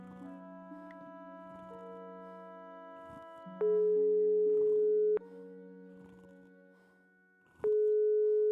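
In the Broken Sword 5 adventure game, a phone call rings out unanswered, with steady electronic tones and loud repeated ring bursts cycling over quiet background music.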